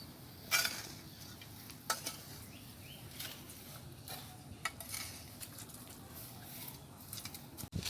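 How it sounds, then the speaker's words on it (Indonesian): Compost is watered and stirred, giving a wet, gritty scraping with irregular clunks and splashy bursts, faint and close, with no talking over it. "Disiram sampai lembab dengan diaduk-aduk."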